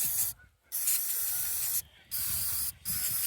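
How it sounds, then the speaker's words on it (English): Three hissing bursts from an aerosol can spraying brake cleaner on a 2006 Subaru rear differential, each lasting about a second with short pauses between, loud and close. "Spray some brake clean on her."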